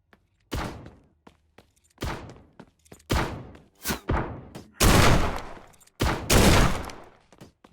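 Loud, booming blasts and gunfire bursts in the video game Forgive Me Father 2 in quick succession, several heavy explosions with ringing decays, close and intense.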